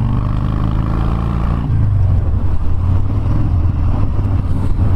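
A 2015 Harley-Davidson Dyna Street Bob motorcycle accelerating on the road, its deep engine pulsing close to the mic, shifting partway through and then pulling harder under a rumbling, wind-tinged roar.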